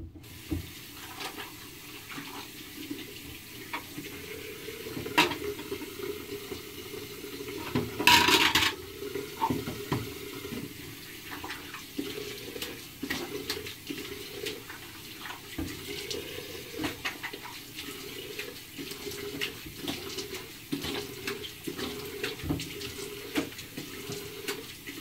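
Warm water runs steadily from a tap with splashing as hands rinse a face before shaving, a brief louder splash midway, close and fairly quiet.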